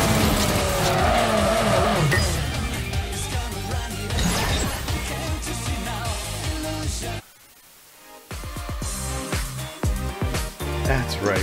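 Flying car racing in the mobile video game Ace Racer, with loud continuous engine roar, skidding and tire squeal and crash hits, briefly dropping out before surging back with game music underneath.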